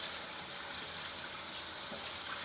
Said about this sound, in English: I just have to come over here again and rinse it out, agitate it